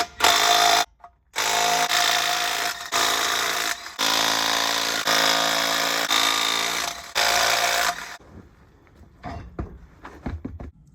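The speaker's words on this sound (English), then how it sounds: "Now let's go ahead and get this tire and wheel off." A power tool whirs in loud repeated bursts while removing the tire and wheel from a 2005 Chevy 2500HD, several on-off runs of whining drive, then quieter clanks and handling noises at the end.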